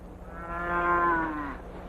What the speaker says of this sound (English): Sam, take your cow to the corral.